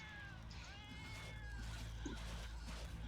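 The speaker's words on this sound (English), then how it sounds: "I got a strong kitty cat now." In the PC game FATE, a pet cat lets out one clear, wavering meow, followed by quieter game background noise and small clicks over a constant low hum.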